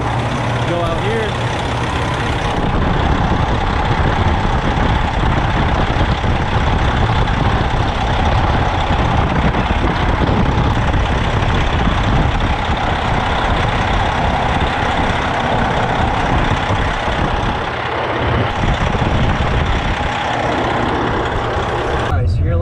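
A 2008 Freightliner truck with a Detroit 60 series diesel idles loudly and steadily after a fuel-water separator filter change, with a brief voice heard over the constant rumble.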